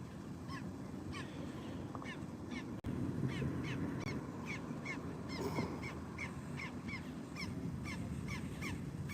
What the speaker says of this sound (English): Yeah, them birds going crazy.